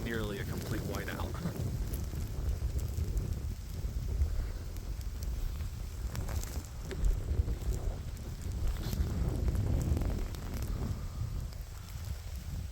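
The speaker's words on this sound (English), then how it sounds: "This had some crazy gusts, probably 40, 45 miles an hour." Strong wind gusts, near 40 to 45 mph, roaring in a whiteout lake effect snowstorm, a constant low rumbling buffet with surging swells against the microphone throughout, plus occasional faint voice.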